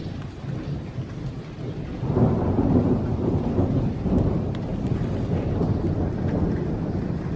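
Thunder rumbles over steady rain and wind during a storm in a garden where snowball trees are in bloom, with the rumble swelling after a couple of seconds and the rain continuing throughout; no one speaks.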